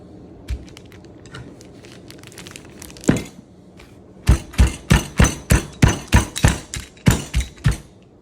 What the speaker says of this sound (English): you're gonna take a rolling pin. We're gonna beat this out and get this all broken up and thinned out